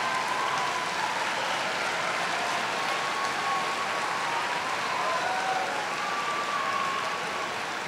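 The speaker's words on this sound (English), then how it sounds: "give a round of applause in appreciation of those who supported you through your educational process" A large crowd of graduates at a fall university commencement applauds steadily, a dense even wash of clapping that holds for the whole stretch, with no voices standing out.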